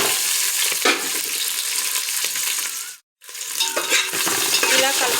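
Onion, green chili and mint with whole spices stirred in a hot pan for bagara chicken curry, a loud crackling sizzle with spoon clinks and scrapes and a short gap of silence midway.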